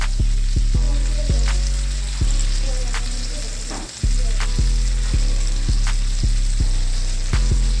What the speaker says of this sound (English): we're gonna sear this side just like this by holding it right there